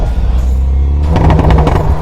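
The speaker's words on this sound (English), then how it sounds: "This is the pop sound." A Hyundai N car's engine drones, and after the throttle is lifted its exhaust lets out a rapid series of crackling pops. The sound is loud and close, with no talking.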